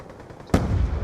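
A sudden sharp blast of gunfire in Call of Duty: Black Ops II cuts in mid-clip over low background noise, followed by a sustained rumbling burst with no voices.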